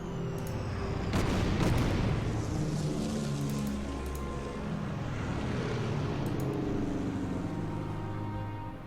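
Aircraft bombing attack in the strategy game Order of Battle, set in the Winter War in Lapland: a heavy explosive impact rolls out over a rumbling engine drone, followed by lingering low booms and aircraft noise.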